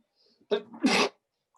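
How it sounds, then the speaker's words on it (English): A single loud sneeze, a sharp intake followed by a forceful burst, close to the microphone in an otherwise quiet room. "I'm going to sneeze."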